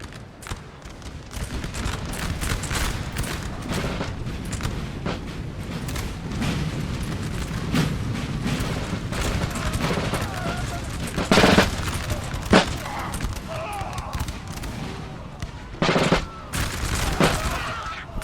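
Musket volleys crackle across a Napoleon Total War battlefield, ragged rolling fire from massed lines with occasional louder booms of artillery, sustained and busy, while a voice speaks intermittently over the fighting.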